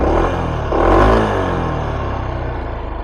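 A Yamaha SMAX scooter engine revs up briefly close by, rising to a peak around one second and settling back into a steady idle hum with slight clatter.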